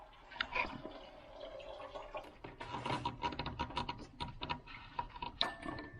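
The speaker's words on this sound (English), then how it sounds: "I'm just going to crack this cap, relieve some pressure, and let it drain some more" Fluid drains from a cracked-open cap during a VVT lockout job, with trickling and dripping liquid alongside small metallic clicks and taps, close and fairly quiet.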